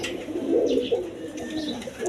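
Breeding pigeons offered for sale coo in low, throaty rolls, close and moderately loud, with a couple of soft higher chirps above a faint background hum and no talking.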